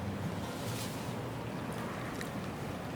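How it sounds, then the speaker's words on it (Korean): Strong wind on a beach during a rain storm at a camp with a shelter, a continuous loud rushing roar and buffeting with no clear breaks. "바람이 이제 일어났는데 여기 텐트 없고"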